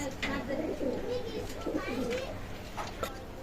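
Pakistani pigeons coo in a soft, repeated rolling pattern at a pigeon dealer's in Bangladesh, close by, while someone talks over them throughout.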